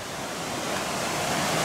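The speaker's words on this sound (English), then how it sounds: "look at this waterfall" A waterfall cascading down Ben Nevis on the mountain path route: a steady, loud, close rush of falling water fills the whole moment as broad unbroken noise.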